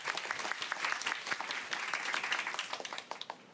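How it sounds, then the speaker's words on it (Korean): Audience applause at a Korean public talk event greets a young farmers' community leader from Yeongcheon, North Gyeongsang, as a dense, steady patter of many hands clapping close by, with no talk over it. "박수로 맞아주십시오."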